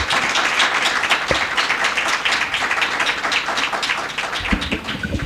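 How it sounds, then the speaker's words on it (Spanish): Applause for Judith Podlubne at a Borges talk event: a dense audience clapping steadily at close range, with a couple of sharp knocks or taps, continuing evenly without speech. "le damos un fuerte aplauso a Judith Poplubne."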